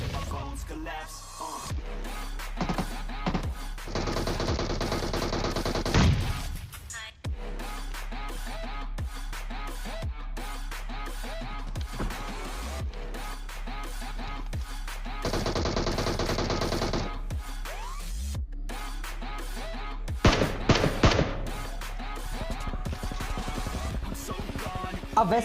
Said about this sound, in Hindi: जो 2 स्क्वाड मेरे ऊपर फायर कर रही थी अब वो आपस में भिड़ गई थी